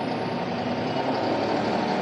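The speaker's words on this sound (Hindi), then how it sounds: "अब मैं इस ट्रैक्टर के इंजन आरपीएम 1500 में सेट कर लेता हूँ" A New Holland 5620 CRDi 4WD tractor engine runs steadily at about 1500 RPM, a constant close, loud diesel drone with no change in pitch and no voices.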